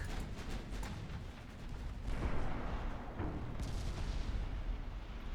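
Naval guns firing in Ultimate Admiral Dreadnoughts, a heavy low rumbling barrage of booms blending into a continuous roar, distant and dense, with no voices.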